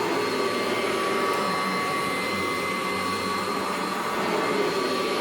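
A 1982 Kirby Heritage 1 upright vacuum cleaner runs with a steady, loud motor roar and high whine, unbroken throughout and with no voices.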